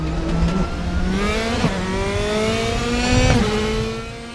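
A Mercedes race car in the Raceroom video game accelerates hard through the gears. The engine note climbs steadily and loudly, with sharp upshift breaks around the second and third seconds, heard close and without talk.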